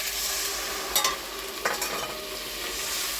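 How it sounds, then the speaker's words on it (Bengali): Water poured into a pan of potato and chickpea curry, a steady loud sizzle with a couple of brief splashing spikes as it hits the hot pan, no talk. "এবার জল দিয়ে দিচ্ছি।"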